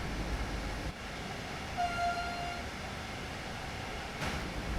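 Passenger train rolling along the Main Spessart Bahn line in Train Sim World 2, a steady low rumble of wheels and running noise with a faint tonal hum rising briefly midway; no talk.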